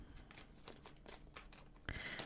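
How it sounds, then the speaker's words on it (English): Tarot cards being shuffled by hand, a few soft riffling bursts close by, faint and alone. "One more shuffle, because that was a lot of cards."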